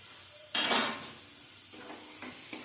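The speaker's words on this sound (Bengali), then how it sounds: "কষিয়ে নেওয়া আর মিশিয়ে নেওয়া" Lotte fish is stirred into a spiced masala frying in a pan, with one loud scrape and sizzle followed by a few softer, quieter strokes.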